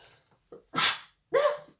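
A single sharp sneeze, preceded by a quick intake of breath and followed by a short breathy exhale, close and fairly loud.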